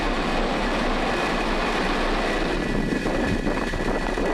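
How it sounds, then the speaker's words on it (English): A SpaceX Falcon 9 rocket ignites and lifts off, heard as a broad rumbling roar from a distance that holds steady and swells a little toward the end. "Ignition and liftoff of SDA. Go SDA, go Falcon."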